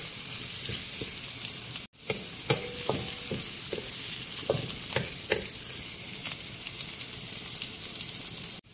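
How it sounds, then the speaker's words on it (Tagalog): Garlic sizzling in hot oil in a pan, a loud continuous fry with several sharp clinks and scrapes of a spatula stirring, broken briefly by a short cut partway through. "Lagay natin si garlic."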